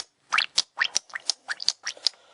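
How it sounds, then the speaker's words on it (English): Oil bubbles and gurgles out of a Ford 4.6 V8 timing chain tensioner, a quick burst of about ten wet, close popping bubbles in an uneven rhythm with no talk over it. "See that bubbling?"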